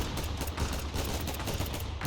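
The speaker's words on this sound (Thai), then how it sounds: "มีเสียงปืนอยู่แถวนี้" Sustained automatic gunfire from a Roblox shooting game, close and loud, with shots rattling in a fast, continuous stream throughout and no voices.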